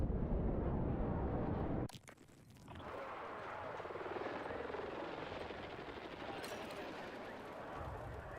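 Helicopter rotor roar during a video game fight, loud and steady, broken by a sharp burst of gunfire or an explosion and then a continuing engine drone with some background noise.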